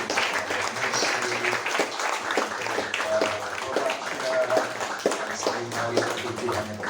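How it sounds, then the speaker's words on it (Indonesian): A church congregation applauds steadily during a Saturday service, dense clapping filling the room for several seconds at a fairly loud, even level. "tolong tepuk tangan untuk para pemuji"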